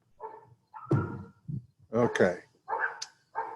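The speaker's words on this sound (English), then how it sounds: "Sorry about the dogs barking." Several dogs bark in short sharp bursts somewhere in the room or nearby, a string of loud woofs and yips with brief gaps, and a person speaks a word between them.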